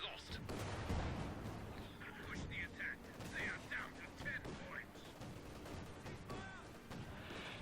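Artillery barrage and gunfire in the Company of Heroes 2 battle game, with repeated bursts, crashes and rattling shots throughout. A voice talks over the fighting.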